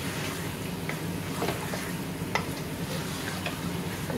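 Onions being stirred and fried in oil in a pot for khair chicken, a steady sizzle with scraping stirs and a few sharper clinks, fairly close, no voices.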